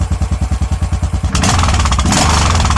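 A motorcycle engine with a K&N filter idles with a loud, rapid thumping pulse, then revs up sharply into a roaring, sustained burst close by.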